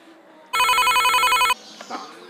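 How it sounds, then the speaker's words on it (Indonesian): A telephone bell rings in one loud, steady burst of about a second, cutting off sharply, followed by faint rustling and low background voices. "Telepon."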